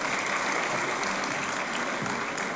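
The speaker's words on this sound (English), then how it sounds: "Once again, give them a big round of applause." Audience at a cultural festival program applauding after a performance, a continuous full roar of clapping that stays loud and even from start to finish.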